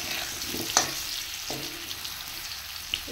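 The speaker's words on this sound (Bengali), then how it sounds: "আলুটাও লাল লাল করে ভাজা হয়ে গেছে।" Potato pieces crackle in hot oil in a wok under a steady, moderate hiss. A few clear clinks and scrapes of stirring break in now and then, with no voices.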